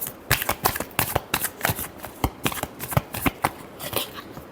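Tarot cards are shuffled by hand in a rapid series of crisp riffling bursts, close and clear, with a brief voice barely present.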